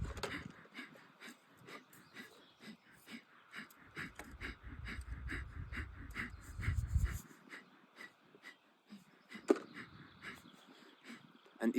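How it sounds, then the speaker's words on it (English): A deep belly breathing exercise for the voice: a run of rapid, rhythmic breaths in and out, close and fairly soft, with a heavier airy stretch in the middle. "And in the end, you breathe out."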